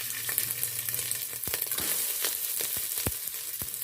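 Rice is poured into two tablespoons of hot oil in a degchi pot, giving a steady close sizzle and frying crackle broken by several sharp clinks and scrapes of stirring.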